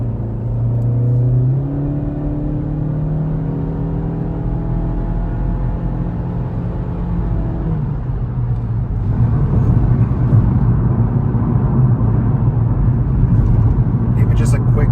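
A KTuner-tuned car pulls out and accelerates hard, its engine rising into a loud, close roar with rumbling and rising pitch; tire noise from the wheels breaking loose is not clearly separable, and a voice talks over it.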